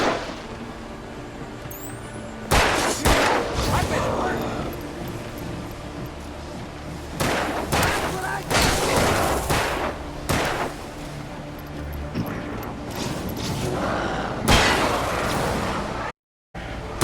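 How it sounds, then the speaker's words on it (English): Bursts of video game gunfire erupt in loud clusters, with heavy reports and sharp impacts coming in repeated volleys and short gaps between them. "Keep shooting!"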